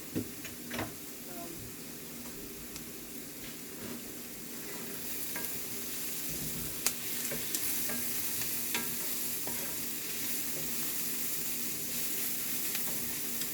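Onions sautéing in a pan for stuffed mushrooms, giving a steady, continuous sizzle with occasional stirring scrapes and ticks, close and moderately loud, with no talk.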